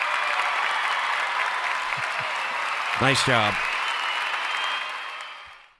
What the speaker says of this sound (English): We get to get him the applause button.